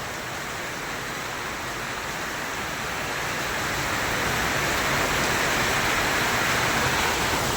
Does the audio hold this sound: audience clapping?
no